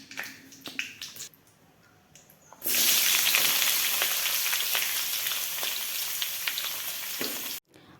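Tomato, onion and chilli tipped into a hot pan burst into a loud, sustained sizzle that starts abruptly and then cuts off, after a few quieter clinks and taps.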